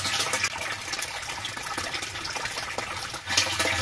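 Water from a full storage tank gushes out through an overflow drain pipe, a steady loud splashing flow that runs continuously, dips briefly and then returns strongly.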